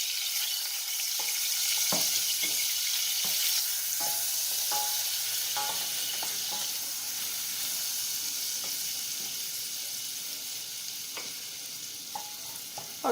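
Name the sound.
garlic sauteing in melted butter in a pan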